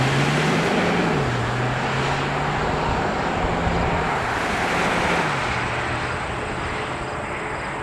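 A 2026 Hyundai Tucson Hybrid on the road, with a continuous broadband roar of tire and wind noise and a low engine drone shifting slightly in pitch, heard steadily from inside the cabin.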